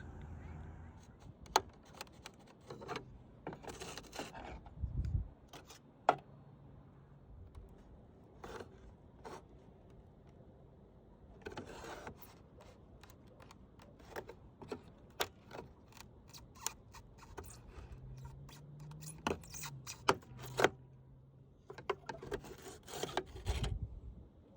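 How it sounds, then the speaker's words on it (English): Plastic trim tabs being pried loose from a car taillight housing by hand, giving scattered scraping rubs and sharp little clicks and snaps, close up, with no talking. "basically I'm just gonna pry it in there"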